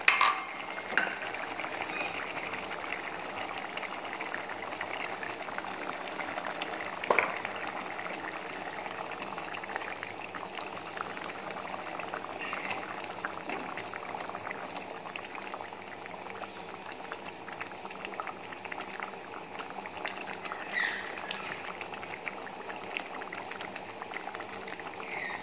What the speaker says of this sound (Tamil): நல்லா கொதிக்கிது, இப்போ நம்ம ஃபிஷ்ஷை போட்டுடலாம்